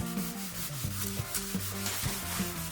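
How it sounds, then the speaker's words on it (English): Wet sanding clear coat on a Ford F-250's paint: a steady, close back-and-forth rubbing rasp with a rhythmic low tonal hum under the strokes. "wet sanding is basically just like paint prep sanding"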